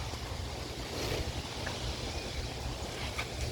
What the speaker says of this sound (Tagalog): Ang hangin dito.